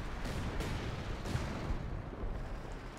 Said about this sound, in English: We have artillery coming in, most likely trying to remove that MG